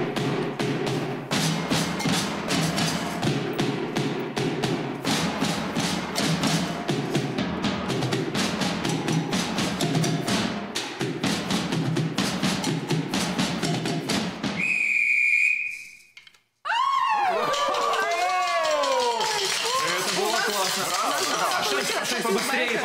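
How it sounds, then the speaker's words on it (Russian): Brazilian agogo bells struck in a fast, steady rhythm by a group playing along together, loud and continuous, then cut off by a long sharp whistle blast, followed by warbling sliding tones. "Ударное называется агого."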